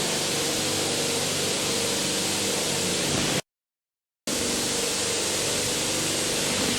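Pressurised air or water spray used during a Class V glass ionomer dental restoration, a loud continuous hiss that cuts out briefly before resuming.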